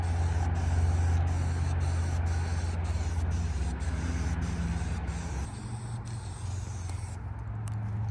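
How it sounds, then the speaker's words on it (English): An aerosol can sprays a second coat of caliper paint onto a VW bus part, a continuous close hiss pulsing with short regular breaks, then stopping near the end. "We're gonna go ahead and do the second coat with caliper paint."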